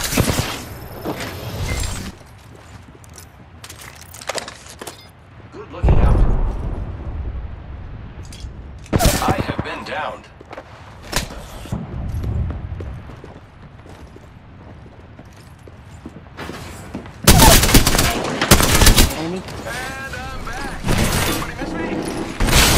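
Video-game gunfire erupts in several loud bursts while under fire, with rapid automatic volleys and sharp shots separated by quieter stretches of background action.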